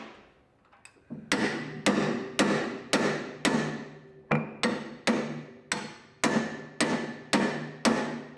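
A steady series of about a dozen sharp metallic hammer strikes lands at a regular pace while a bolt is lined up on a hydraulic machine with major faults, each blow close, loud and quickly decaying, with no voices.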